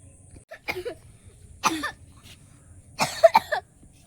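Several short, dry coughs from a child with a cold come in separate bursts with quiet pauses between them, close by against a faint background.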